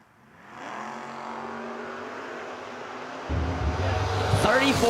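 Camaro drag cars at a footbrake challenge drag race: an engine roars and builds, then a second car joins with a louder, harsher rise as the cars launch, fairly close, with an announcer's voice blending in.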